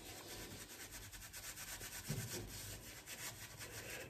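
Shaving brush working lather over a face, a steady soft rubbing and brushing swish, close and continuous, quiet, with no voices.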